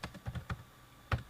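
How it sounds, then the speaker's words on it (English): Several sharp clicks of typing on a computer keyboard, a quick run of keystrokes followed by a pause and one louder final tap, close and quiet with no talk. "if I type something else altogether"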